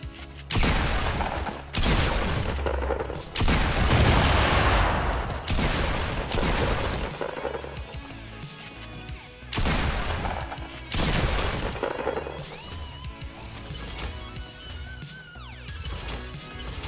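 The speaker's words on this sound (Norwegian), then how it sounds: "så teit altså at de må skyte så mange skudd på spillerne" Dense bursts of automatic gunfire in the Fortnite video game, loud and close, coming in repeated volleys with brief gaps and some crashing impacts mixed in.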